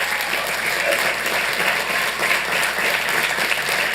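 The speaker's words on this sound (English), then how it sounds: "Please give your parents a round of applause." Audience at a city council meeting applauding, a dense, steady clapping that fills the whole moment, loud and close with no speech over it.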